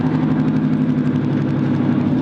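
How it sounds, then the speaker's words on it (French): A heavy vehicle's engine runs steadily while engine braking with no additional retarder, a loud, continuous low droning rumble close by, with no voices. "Et là, ce n'est que le moteur."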